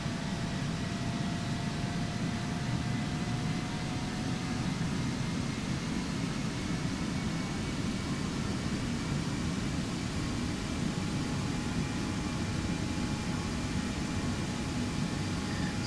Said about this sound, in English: If you guys are hearing it in the background, the engine noises